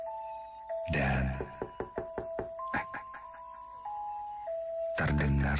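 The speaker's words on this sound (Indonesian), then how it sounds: "terdengar suara ketukan pintu di depan rumah" Several sharp knocks rap on a house's front door in quick succession, set over a sustained tonal music bed in a night-time horror radio drama.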